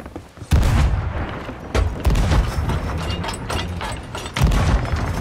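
Ship cannons firing in the Sea of Thieves pirate game arena: several heavy booming blasts at about half a second, near two seconds and again past four seconds, amid ongoing mechanical rumble and clatter, loud and close.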